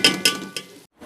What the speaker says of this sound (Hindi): अब मैं इसको डिश आउट करने लगी हूँ।